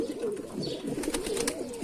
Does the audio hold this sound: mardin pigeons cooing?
yes